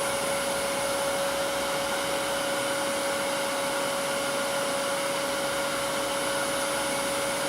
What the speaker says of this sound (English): we've got motor fan noise here and kind of could muffle that down